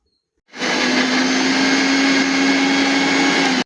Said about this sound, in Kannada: ಬೆಳ್ಳುಳ್ಳಿ, ಹಸಿ ಶುಂಠಿ, ಇದನ್ನು ಫಸ್ಟ್ ಗ್ರೈಂಡ್ ಮಾಡ್ಕೊಳ್ಳೋಣ